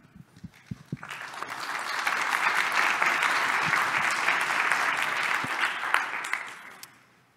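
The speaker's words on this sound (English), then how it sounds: "Give a welcome applause to Bryan." At a tech conference talk, a few early claps swell into full, steady audience applause that holds for several seconds, then tapers off near the end.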